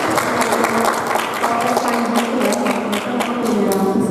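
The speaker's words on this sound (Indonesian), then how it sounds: "Bisa kita beri aplaus dulu untuk penjelasan awal." Audience applause at a Bobung mask-making workshop, steady clapping filling the room for the whole stretch, fairly loud and even with no break.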